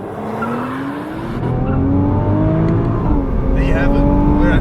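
2020 Nissan GT-R launching hard from a standstill, engine roar climbing through rising pitch sweeps with gear changes, loud and close, under a voice talking throughout.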